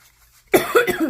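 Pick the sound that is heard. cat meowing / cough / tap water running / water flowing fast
cough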